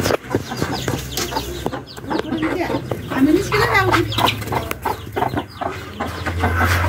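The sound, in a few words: chickens and chicks clucking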